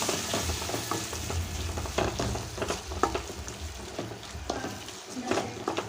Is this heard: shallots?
yes